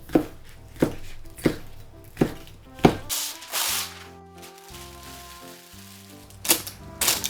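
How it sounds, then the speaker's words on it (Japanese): A knife slices chikuwa fish cake thinly on a cutting board, five evenly spaced crisp chops followed by a tonal pause and two more quick cuts at the end. "ちくわは薄切りにしておきます"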